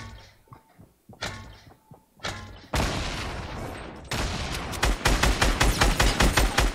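Fortnite gunfire in a duos match, opening with several sharp separate shots, then heavy sustained bursts and rapid repeated cracks that grow louder toward the end, close and dominant.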